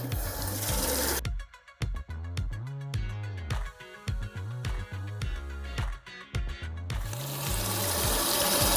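Lukewarm water runs from a bathroom tap during a nighttime face wash, a steady close splashing broken by brief changes as hands move through the stream, with a faint musical tone running underneath.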